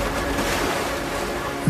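Ocean waves wash against a fishing boat at sea in Indonesia, a steady broadband rush of surf and water with a faint wind edge, continuous and fairly close, ending in a brief low thump at the very end.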